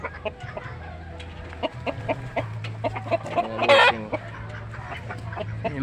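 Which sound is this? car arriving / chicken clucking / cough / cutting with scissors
chicken clucking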